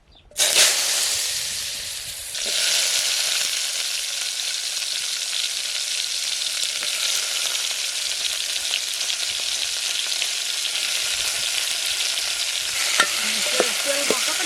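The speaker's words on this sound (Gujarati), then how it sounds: "તેલ ગરમ થઈ ગયું છે આ કેરી નાખી દઈ" Mango pieces hit hot oil with a loud initial burst, then settle into a dense, steady sizzle and crackle that continues, close and unbroken, until the end.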